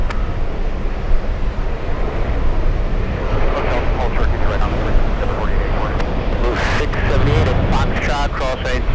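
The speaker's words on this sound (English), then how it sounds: "it looks like one Osprey will follow" A V-22 Osprey flies in the dark at JFK behind Marine One, a broad continuous rumbling roar under loud, constant talk from nearby people.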